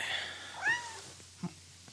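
A cat gives a couple of short, rising meows close by, followed by a faint soft thump and quiet room background.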